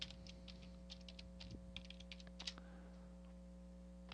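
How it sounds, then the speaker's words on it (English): A password is typed on a computer keyboard in quick, faint, irregular keystroke clicks over a steady low electrical hum. "type in my password for CIS90"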